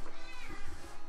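A pet cat meows once, drawn out and close, in an indoor room beside a chair.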